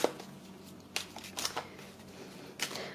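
Oracle cards being shuffled by hand: quick papery riffles in a few short bursts, close and quiet, with pauses between.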